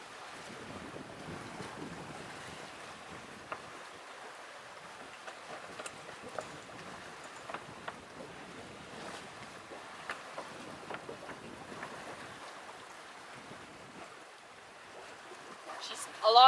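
A sailboat under spinnaker with no engine running, gliding between Hog Cay and Raccoon Cay: steady wind buffeting the microphone over water wash, with faint creaks and knocks and a louder bump at the end.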